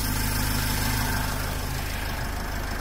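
A motorcycle engine idles steadily at close range after a leak repair, giving a loud, even, low throbbing rumble with no voices.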